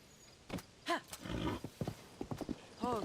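A horse in Zelda: Tears of the Kingdom whinnies and snorts at close range with clip-clopping hooves between the calls, several distinct neighs across a few seconds with no talking.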